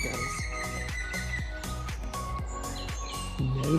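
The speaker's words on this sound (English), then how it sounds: "No clue what that bird was." Unidentified bird calling in English bluebell woods, a clear repeated whistled chirping over a steady background of rhythmic low thumps, fairly close.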